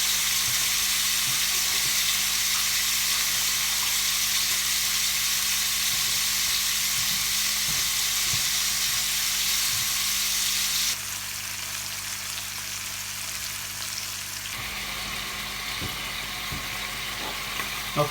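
Pork shoulder steaks brown in a hot pan, giving a steady loud sizzle that runs throughout, shifts to a slightly quieter tone partway through, and has occasional small pops and utensil clicks near the end.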